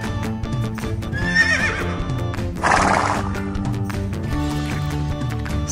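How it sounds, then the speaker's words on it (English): Brown horse neighing loudly in two whinnies with hoof clip-clops and a rushing burst in between, close and prominent in a children's animal toy sequence. "Brown horse."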